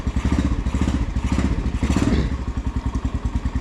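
An X-Pro Storm 150 DLX dual sport motorcycle engine runs close by with a rapid, throbbing single-cylinder chug that rises briefly in the middle and then settles into a steady pulse.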